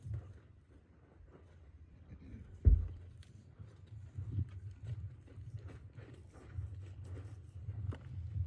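A horse's hooves clip-clop softly at a steady walk during a training lesson, with faint irregular thuds over a low background rumble and one louder knock partway through.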